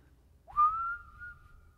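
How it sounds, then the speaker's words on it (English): A single sustained human whistle with reverb, rising quickly into one long steady held note and ringing on clearly before trailing off, heard alone over quiet room tone. "it's that reverb makes the whistling sounds, I guess."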